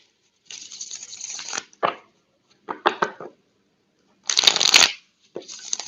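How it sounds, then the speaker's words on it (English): Tarot cards shuffled by hand in several bursts: a long riffling run, short quick snaps, then another dense flurry, each crisp and close with brief silent pauses between. "Y'all make a wish while I shuffle for Aries"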